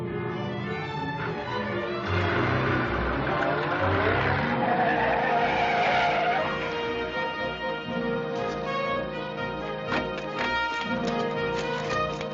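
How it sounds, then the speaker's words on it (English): An armored car from a 1949 Batman and Robin serial drives past, its engine roaring and tires squealing over dramatic orchestral music that runs throughout. "The armored car is approaching."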